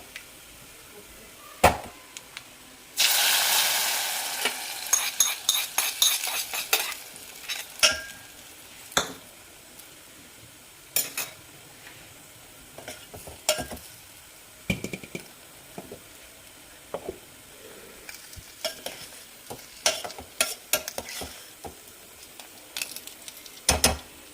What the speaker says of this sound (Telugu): సో తాలింపు నేను తీసేసుకొని అందులో వేసుకుంటాను.